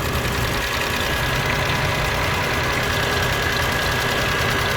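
A 1997 Lexus ES300 six-cylinder engine runs at a steady idle, a loud, continuous close rumble with a faint ticking knock and no talking.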